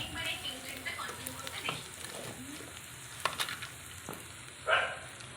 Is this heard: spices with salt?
yes